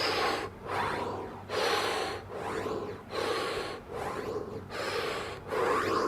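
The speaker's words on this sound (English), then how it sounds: "So I'm just doing it as an exaggerated way, obviously, folks, because I want you to sort of really focus on your breathing" Exaggerated deep breaths during a strength training exercise, each a long, loud, rushing inhale or exhale near the mic, repeating in a steady pump-like cycle of about six strokes with brief gaps between.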